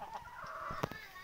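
Rooster and hens clucking on a Sonali desi poultry farm, steady close calls with a sharper squawk near the end, a faint voice underneath.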